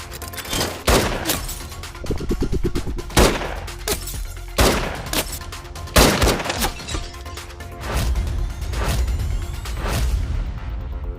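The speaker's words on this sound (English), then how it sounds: "Then he beats him at trap shooting, blind." Shotgun blasts during trap shooting by a blindfolded shooter: a series of sharp, loud, close reports come at irregular intervals, with some faint clatter and rustle between shots and no talking.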